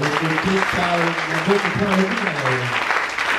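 Church congregation applauding, a steady dense wash of clapping throughout, heard under singing or talk.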